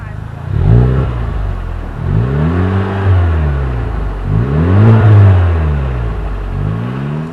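2021 Honda Civic Type R with manual transmission and front-wheel drive pulls away, its engine revving up and easing off several times in rising and falling sweeps, loud and close, interrupted by brief gear-change pauses.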